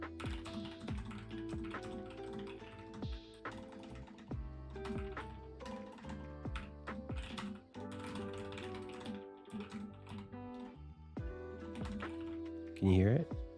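Steady, close clatter of typing on a new low-profile 75-key mechanical keyboard, keys struck in quick irregular runs with brief pauses between bursts.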